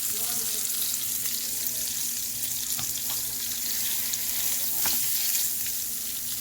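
Pork chops frying in a pan after being flipped, a dense, even sizzle that carries on close and loud with a few faint clicks scattered through it and no talking.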